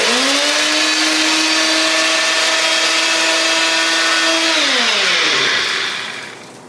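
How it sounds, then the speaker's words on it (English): A bullet blender grinding dehydrated onion into powder, a loud steady high-pitched motor whine that holds for about five seconds, then drops in pitch and winds down as it is switched off. "Put it in my bullet and grind away."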